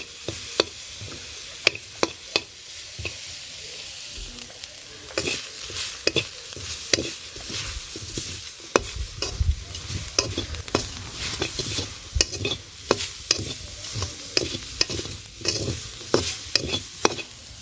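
Coriander leaves frying in a wok over a clay stove, a steady hiss of sizzling broken by sharp, repeated spatula scrapes and clinks against the pan, close and uneven in rhythm.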